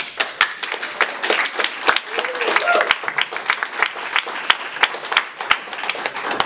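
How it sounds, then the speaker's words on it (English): Audience at a poetry festival applauds the co-host, scattered and fairly sparse clapping with a few sharp individual claps, heard close and steady throughout, with a voice speaking over part of it. "a round of applause for my co-host tonight, Tine Melzer."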